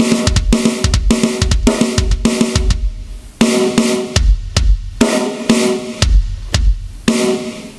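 A drum kit pattern alternating right and left hands, then right and left foot, played as a loud, close, steady run of punchy hits, with low kick strokes between brighter drum and cymbal strikes and no talking.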